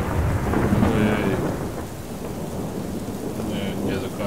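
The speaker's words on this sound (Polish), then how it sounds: "Ta burza i bez tej gry jest straszna." A thunderstorm in the horror video game Slender, in the mansion level: steady heavy rain with a deep, rolling rumble of thunder near the start, loud and continuous throughout.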